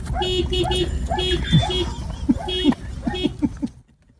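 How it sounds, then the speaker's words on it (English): A small dog sits in a parked car outside a Subway restaurant and sounds the car horn, giving a series of short, evenly spaced toots mixed with yapping barks, under news anchors talking. "they saw this little dog barking and honking at its owner to hurry up"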